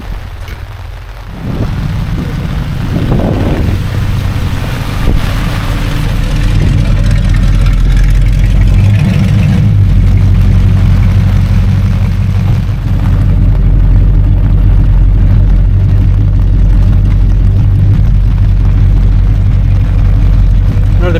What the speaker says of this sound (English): it's got a 528 Ray Barton Hemi engine stroker in it, and that explains the deep growlish sound